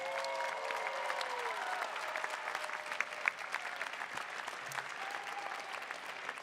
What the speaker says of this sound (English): Please join me in an extra loud round of applause for the Masters of Arts Management